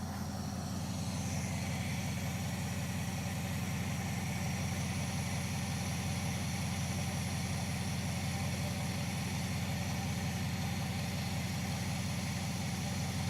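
A Dodge Charger engine idling steadily and richly while its idle speed screw is adjusted, a continuous loud rumble with a faint hiss above it and no talking.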